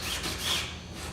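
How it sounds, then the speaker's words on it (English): A cloth rubbing over sanded edges of an experimental airplane part while wiping them with acetone, giving a brief steady close scrubbing sound with no talking. "wiping these sanded edges down"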